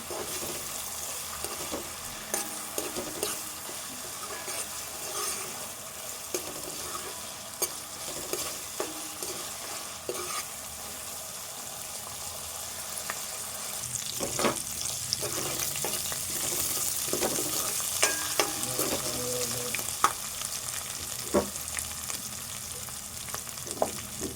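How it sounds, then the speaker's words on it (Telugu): Onion and ginger garlic paste fry in a pan for a fish curry, a continuous close sizzle broken by frequent spatula scrapes and taps, growing busier and louder in the second half, with no speech. "ఈ ఉల్లిపాయ ఈ అల్లం వెల్లుల్లి పేస్ట్ అంతా కూడా దూరగా పచ్చి వాసన పోయేదాకా వేయించుకుందాము"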